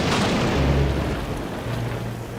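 Heavy rain pouring down in a Thomas the Tank Engine cartoon scene, a dense steady hiss with low rumbling underneath, loud and unbroken, no voices.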